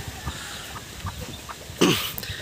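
Hens and young chicks cluck softly nearby in short, scattered calls, with one louder, sharper call partway through; quiet and brief, with no talk.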